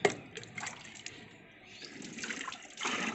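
Water pours and splashes over a person's back and face during a bathing ritual for Kali Puja, a continuous close splashing flow with a few fuller surges.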